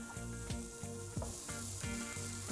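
Cooked rice sizzles and fries with chicken in a hot pan, a steady loud crackle broken by rhythmic scraping strokes of stirring roughly every third of a second, close up and with no voices.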